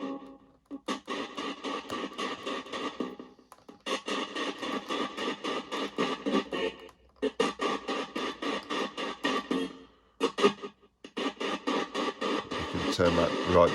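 A ghost box radio sweeps rapidly through stations with white noise, producing choppy bursts of static and clipped audio fragments in rhythmic stepping runs broken by brief gaps.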